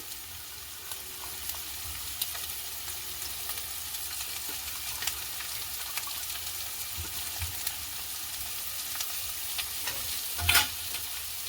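Chopped leeks go into a hot pan and are stirred, giving a steady close sizzle with light scraping and one louder stir clatter near the end; no voices.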